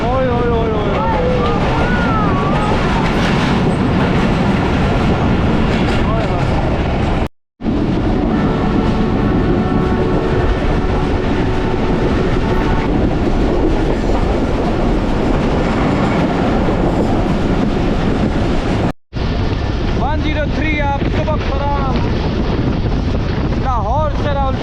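The 12DN Awam Express, hauled by a GU20 locomotive on the Lahore to Rawalpindi route, runs loud and close with a steady rumble, wheel clatter and wind buffeting, two brief dropouts breaking it and voices shouting faintly over the noise.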